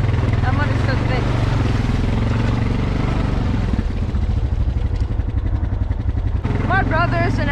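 Off-road vehicle on 28-inch tires labors through thick mud. A steady, loud engine drone holds throughout, while someone speaks excitedly over it.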